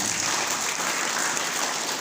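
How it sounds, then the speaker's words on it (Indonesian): Dense, steady applause from an indoor audience at a gathering fills the whole stretch, loud and even with no pause. "tepuk tangan untuk kita semuanya"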